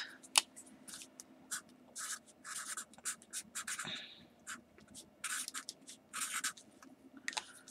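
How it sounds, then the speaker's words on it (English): Pen scratching out a name by hand in short bursts of writing strokes, quiet and close, with brief pauses between words while decorating plastic bags with die cuts. "I'm going to write her name down real quick."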